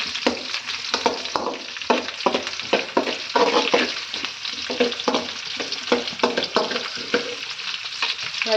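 Onions fry in hot oil with a loud, close sizzle, punctuated by rhythmic scraping stirs of a spatula against the pan, repeated steadily with no voices.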